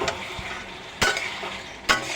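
Potato and taro curry stirred in a simmering pot, with three sharp scrapes of a utensil against the pot at intervals over a steady low bubbling background, close and moderately loud, no talking.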